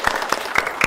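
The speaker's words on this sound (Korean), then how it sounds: "박수 부탁드릴게요" An audience at a startup talk concert gives a brief scatter of applause, a handful of distinct claps sounding close and fairly loud.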